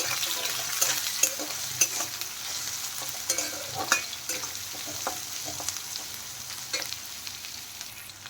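Onions lightly frying in a pan with ginger and garlic for masala chole, a steady soft sizzle broken by scattered stirring scrapes and clicks, fairly close and moderately quiet, with no talking.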